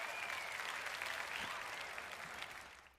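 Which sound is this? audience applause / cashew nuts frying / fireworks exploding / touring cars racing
audience applause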